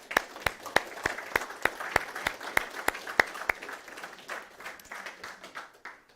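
A church congregation gives a round of applause, sharp rhythmic claps standing out at first, then merging into a denser, fading wash of clapping across the room.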